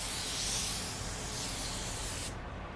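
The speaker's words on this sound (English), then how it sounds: "you're going to dust coat your panel" A spray gun set around 15 psi lays a dust coat of metallic paint onto a car panel, producing a steady, close hiss of atomized spray that stops abruptly near the end.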